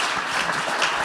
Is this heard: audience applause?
yes